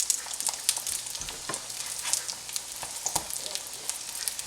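Chicken and broccoli fritter patties fry in hot oil in a non-stick skillet, giving a steady close sizzle with crackling pops and spits throughout, no voices.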